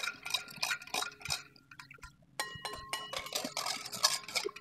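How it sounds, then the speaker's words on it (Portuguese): Yeast being stirred into water to dissolve it, with quick, close clinks of a spoon against a bowl and liquid swishing, briefly pausing midway, no voices. "Eu vou dar uma misturada aqui para ele dissolver"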